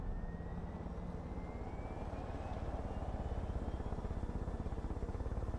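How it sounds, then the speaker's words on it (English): A helicopter in the video game Far Cry 5 flies with a steady, rapidly pulsing rotor thump and engine whine, loud and constant with no talk. "Nobody dare take my helicopter."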